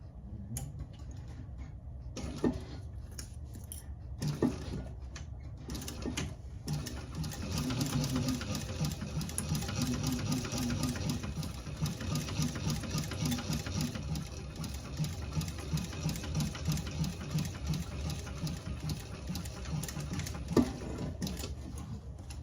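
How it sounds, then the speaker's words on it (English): A sewing machine stitches the seam allowance of a fabric candy bag with a continuous whirring, ticking needle rhythm. It runs close and steady for over twenty seconds, with brief pauses near the start. "we're going to sew the seam allowance in the pattern"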